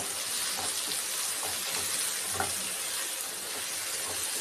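Dried fish and eggplant fry in a pan with a steady, close sizzle and occasional stirring scrapes, without any voices.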